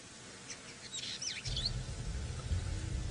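An indigobird with a white beak and orange feet gives a few bright chirping, whistled calls at a distance on a sunrise safari drive near puddles, with rumbling vehicle noise rising beneath.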